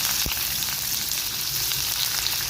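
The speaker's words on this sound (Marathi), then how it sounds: "मी हा एक कांदा घातला आहे कांदा थोडा परतत आला" Chopped onion sautés in a hot pan for a masala dosa filling, giving a steady, close sizzle with no one talking.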